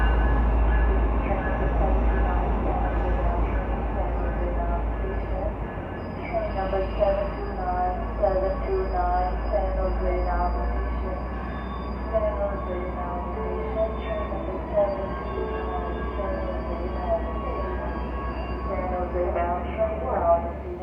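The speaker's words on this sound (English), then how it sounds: "Amtrak train Capital Quarter has made its way here, making its next stop here in Oakland Jack London Square." Amtrak Capitol Corridor train arriving at Oakland Jack London Square station, a heavy low rumble with clanking and squealing wheels, while someone talks over it.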